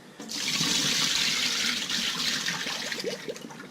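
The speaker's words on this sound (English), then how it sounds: "All right, gave it one last rinse." A tap runs steadily into a sink as fish gets a final rinse, a close, even rush of water that softens slightly near the end with a few light splashes, no talk.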